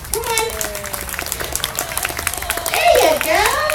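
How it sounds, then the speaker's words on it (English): An audience claps in a round of applause at a 4-H demonstration, scattered, moderately close hand claps running throughout while a person talks over them. "they're clapping for you"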